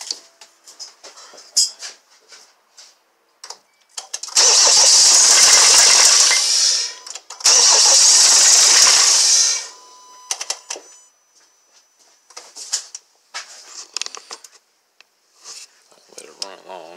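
A Kia Sorento 2.4 engine running with its oil control valve removed, heard as two loud bursts of harsh hissing roar, each lasting a few seconds, with scattered clicks and ticks around them.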